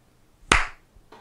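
One sharp hand clap made to sync podcast recordings, close and crisp with a quick decay, followed by a faint softer sound near the end.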